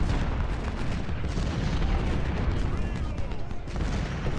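Dense, continuous barrage of artillery and musket gunfire from the American Civil War strategy game Ultimate General: Civil War, a steady rumbling roar of overlapping booms and crackling shots filling the whole stretch with no pause.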